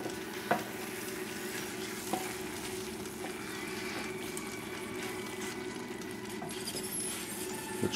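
Spinach and mushroom risotto cooks slowly in a pan, a steady soft sizzle and gentle bubbling with a few faint scrapes of a spoon, close and even throughout with no talking.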